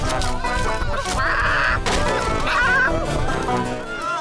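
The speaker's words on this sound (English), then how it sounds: "Catch that chicken!" An escaped cartoon chicken from Ben and Holly's Little Kingdom clucks in short, bright bursts over a busy, continuous bed of music and effects, loud throughout.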